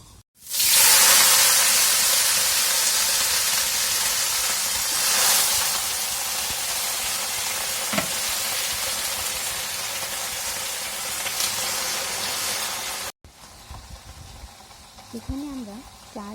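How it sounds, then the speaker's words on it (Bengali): Washed napa greens hit hot oil with frying chicken, setting off a loud, steady hissing sizzle that fades gradually over many seconds before cutting off, after which a voice speaks over a quieter simmer. "এখন ধুয়ে রাখা শাকগুলো দিয়ে দিব চিকেন ভাজের"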